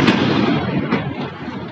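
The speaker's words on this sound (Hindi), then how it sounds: "बहुत ज़्यादा पटाखे फूट रहे हैं" Loud, dense crackling bursts of firecrackers explode continuously up close during Diwali celebrations, with sharper pops standing out from the rumbling din.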